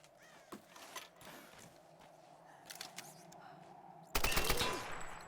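Gunfire aimed at fuel tanks in Tomb Raider: The Last Revelation: scattered faint game noises at first, then a loud, dense burst of shots near the end, with a little talk.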